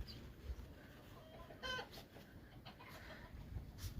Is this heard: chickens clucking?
yes